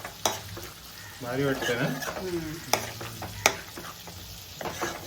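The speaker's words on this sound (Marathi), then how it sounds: "आता आपल्याला टाकायचं आहे अंडी, शिंगाल्याची अंडी." Catfish eggs stirred into frying masala give a steady sizzle broken by sharp spoon clanks and scrapes against the pan, while someone talks over the cooking.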